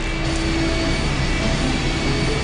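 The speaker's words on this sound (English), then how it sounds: "The engine's starting up again." An engine starting up and droning in the 1995 DOS adventure game I Have No Mouth, and I Must Scream, a steady loud mechanical hum with faint whining tones, unbroken throughout.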